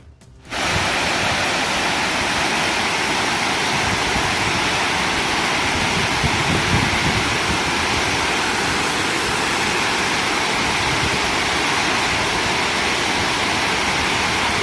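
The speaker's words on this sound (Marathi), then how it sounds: "महाराष्ट्रातील अनेक धरणांतून सध्या विसर्ग सुरू आहे" Water discharges from a dam in Khed taluka, Maharashtra. After a brief quiet start, a loud, steady rushing roar sets in and continues without break.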